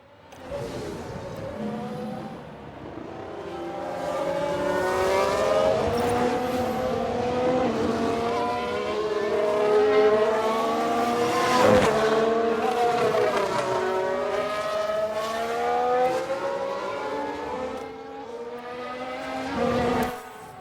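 Race cars in the F1 Manager 22 game, a McLaren locking up under heavy braking, with several engine notes rising and falling continuously over about twenty seconds, loud and layered, with no talk.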